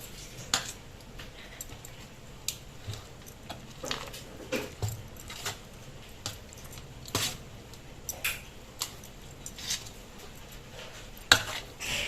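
Raw mango rice (pulihora) is stirred in a metal vessel, with soft, irregular scrapes and clinks of a spoon against the pot repeating quietly for several seconds, no speech.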